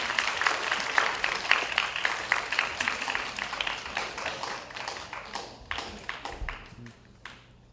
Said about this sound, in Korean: 멋진 발표해준 우리 3학년 선배들에게 다시 한번 큰 박수 부탁드리겠습니다